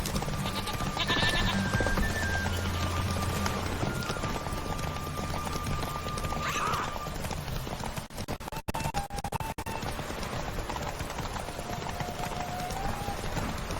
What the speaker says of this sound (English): God, I feel like my horse is slow as.